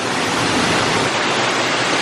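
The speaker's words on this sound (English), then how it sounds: "if you just make your way back to this waterfall, I know it's loud" A loud waterfall in the relaxation zone at Knott's Berry Farm roars as a steady, dense rush of falling water heard up close, with no voices over it.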